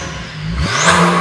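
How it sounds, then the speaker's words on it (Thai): A Porsche 992 Carrera with a stage 2 tune and a USUS titanium full-system exhaust revs up close and loud, its rising roar sweeping upward in pitch over a brief rev. "ฟังเสียงว่าอูซัดไทเทเนียมแอ็กซอสแบบ Full System จูนสเตจ2แล้วก็ใส่กอง BMC เสียงเนี่ยโหดขนาดไหน"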